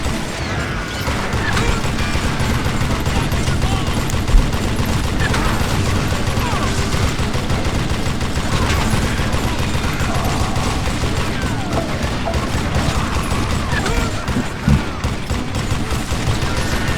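Steady, dense gunfire in Call of Juarez: Gunslinger, loud and continuous, with crashes and sharp impacts scattered through the volleys.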